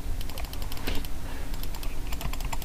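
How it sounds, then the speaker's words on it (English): Rapid computer mouse clicking during a clicking-speed contest: quick, sharp clicks come in fast bursts with brief gaps between them, close and fairly loud, with no voices. "that's some hot clicking action there"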